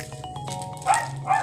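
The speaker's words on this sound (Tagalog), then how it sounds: "Pasensya na po kung maingay yung aso at saka electric fan" Dog barks indoors: a couple of short, mid-distance yips over the steady hum of an electric fan.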